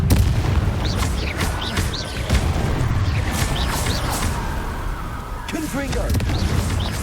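Repeated Confringo spell explosions burst and pop in Hogwarts Legacy amid dense continuous battle noise, with fiery whooshes and crackling layered throughout.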